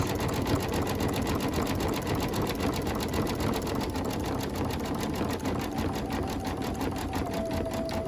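Embroidery sewing machine stitching through layers of jean material, a fast, steady, even rattle of the needle running continuously and close, with no talking.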